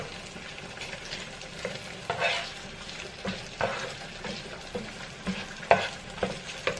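Food being stirred and swished through melted butter in a frying pan while fettuccine Alfredo is made, a soft steady sizzle with light scraping strokes recurring every second or so, close and fairly quiet.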